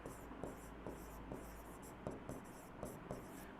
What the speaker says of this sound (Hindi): नीचे लिखते हैं